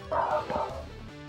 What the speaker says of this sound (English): You hear my dog messing up my f***ing video?